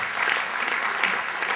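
Audience applause at a Hindi poetry gathering, a dense, steady wash of clapping that holds at an even level for the whole short stretch with no break.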